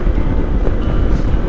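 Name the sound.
strong wind at seaside campsite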